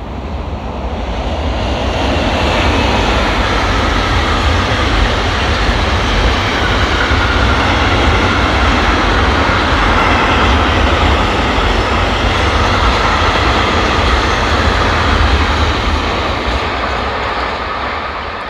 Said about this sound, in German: Da kommt ein Kesselwagenzug mit einer Trax 3 vorweg.